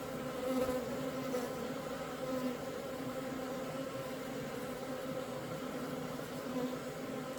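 Dense, steady buzzing of many bees swarming around a beehive, a continuous droning hum at an even, moderately loud level with no voices.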